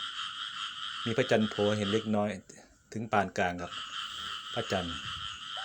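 Frogs croak in the early morning after overnight rain, a dense chorus of steady pulsing calls running throughout while someone speaks over them.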